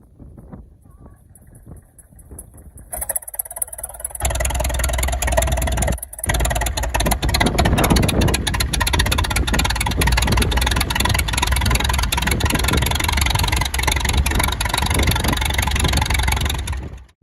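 A Samson model tractor engine fires up after a quiet start, then settles into a loud, steady idle that runs on continuously at close range.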